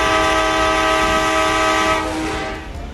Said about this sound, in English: Another train is approaching from the opposite direction.